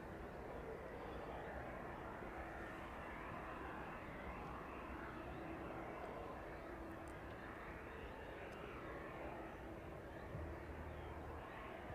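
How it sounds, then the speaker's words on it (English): Boeing 767 auxiliary power unit spooling up on an airport apron, a steady broadband jet roar that holds loud and constant throughout, with faint voices in the background. "It sounds like the APU starting up on the 767 there in front of us."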